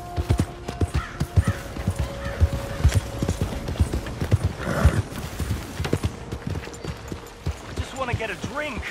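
Horse hooves clip-clop in Red Dead Redemption, a steady rhythmic clatter of fairly close, moderately loud hoofbeats running throughout, with a brief whinny, game music and someone talking over them.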